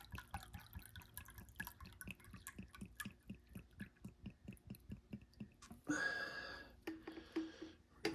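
Steady drips of water dribble from an army canteen, pattering in an even rhythm, then a brief splashy trickle near the end.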